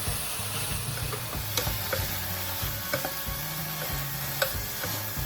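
Eggplant pieces stir-frying with tomatoes and bean paste crackle in a steady close sizzle, punctuated by light, regular clicks and scrapes of a utensil against the pan.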